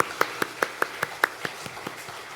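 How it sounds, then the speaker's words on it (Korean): A short burst of about ten rhythmic hand claps, evenly spaced and fading slightly toward the end, from a church congregation applauding during a Sunday worship service marking the church's 36th anniversary. "우리 하나님께 영광의 박수를 올려드릴까요?"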